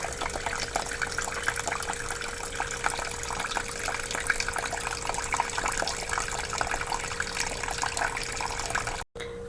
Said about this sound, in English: So now I'm going to wash this beef.